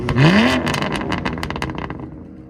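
A 2019 BMW M2 Competition with a 3.0-litre twin-turbo inline-six and valved exhaust revs hard and close, one loud sweeping rev that rises and falls, then crackling pops trailing off as it fades.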